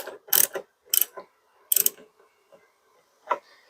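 Ratchet tightening 10mm bolts on a Porsche Cayenne taillight, heard as a handful of short, sharp clicking bursts with quiet gaps between them, close up and alone.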